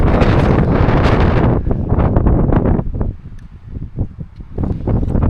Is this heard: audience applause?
no